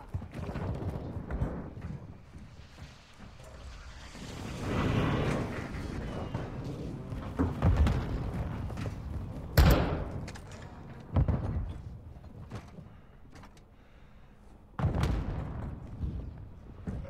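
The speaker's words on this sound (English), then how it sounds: "Friendly precision airstrike inbound." Precision airstrike explosions in Call of Duty: Black Ops 6 multiplayer land as a series of heavy, thudding distant blasts and rumbles spread across the stretch, mixed with gameplay noise and some faint radio-style voices.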